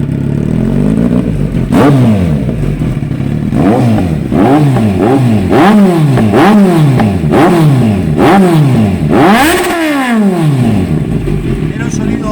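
Kawasaki Z900 motorcycle fitted with an SC Project exhaust revs repeatedly, a loud series of sharp throttle blips rising and falling in quick succession, close up and dominating, with a voice faintly present at moments.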